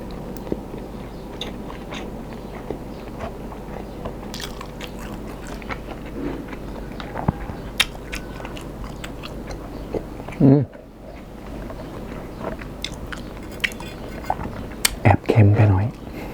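Someone chews and eats chili-salt stir-fried egg, with soft biting and crunching bites scattered close up, a few louder chomps near the end, and a voice speaking at moments.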